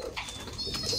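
Fancy racing pigeons coo at close range, a soft, low throaty call in a brief burst, with a faint higher tone running alongside.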